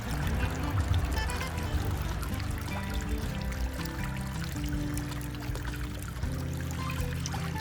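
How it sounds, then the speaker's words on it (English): Water squirted from a snuffer bottle onto gold-panning concentrate in a blue bowl during prospecting cleanup, a continuous close pouring and trickling splash with steady loudness throughout, no talking. "I will take my snuffer bottle and get it full of water"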